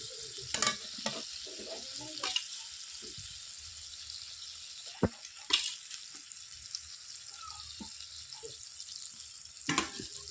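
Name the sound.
meat added to sizzling spice masala in pan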